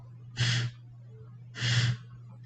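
Two forceful nasal exhales of rapid yoga breathing, about a second apart, each a short sharp puff of air over a faint steady hum.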